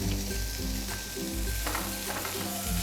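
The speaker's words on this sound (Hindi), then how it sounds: "और ये हमारे छुहारे जो हैं वो हो रहे हैं, रोस्ट हो रहे हैं।" Dried dates and melon seeds roast in a hot pan, giving a steady crackling sizzle broken by scraping stirs, close and moderately loud with no talk.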